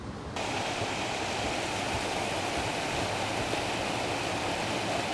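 Foaming water rushes steadily down Kule Creek in Kartepe's Dumlupınar neighbourhood, Kocaeli, a creek polluted by wastewater. It makes a constant, loud, broadband roar that runs unbroken throughout, with no voices.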